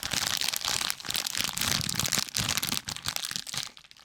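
Close-miked crunching of food, with dense crackly, crinkly bites and chewing right against the microphone, loud and continuous before tapering off at the end.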